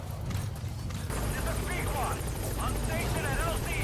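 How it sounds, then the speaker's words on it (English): A helicopter in the Metal Gear Solid V video game approaches, its continuous rotor thrum growing fuller while chirping game sound effects play over it. "The helicopter's nearly here."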